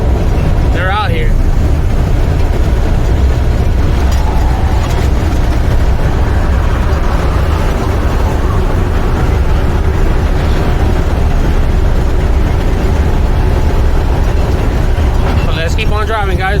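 A semi truck cruises along a highway at about 55 mph on the way to a terminal, with a steady, loud engine and road rumble plus wind noise throughout and brief talk near the start and end.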